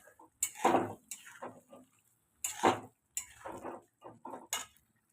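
A spoon scrapes and clinks against a pan while cashew, raisin, poppy and melon seed paste is stirred into chicken korma, several separate scraping strokes with quiet gaps between them.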